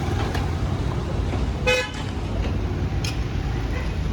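A car being parked outside a cafe gives a steady low engine rumble, broken by one short horn-like beep midway.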